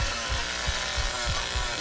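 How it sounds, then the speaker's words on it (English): Leatherface's chainsaw in the Texas Chain Saw Massacre video game runs as a loud, steady buzzing drone with rhythmic low throbs from the engine. "his chainsaw is so loud"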